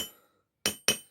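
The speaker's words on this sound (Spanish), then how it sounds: "se martilla un poquito ahí arriba" Two sharp metallic hammer strikes on a homemade metal crochet hook near its tip, each a bright ringing clink that decays quickly, close up, after a fading earlier ring and a brief silence.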